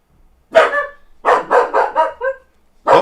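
A dog barks indoors, loud and close, giving one sharp bark followed by a quick run of five rapid barks and another bark at the end, with no talk over it.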